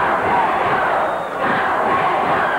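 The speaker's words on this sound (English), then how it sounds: "The crowd is cheering him on." An arena crowd at an NWA Central States wrestling match roars and cheers loudly and continuously for a wrestler, a dense wall of voices with a brief dip midway.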